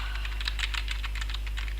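A computer keyboard clatters with a quick run of keystrokes, close and fairly soft, over a steady low electrical hum with no voices.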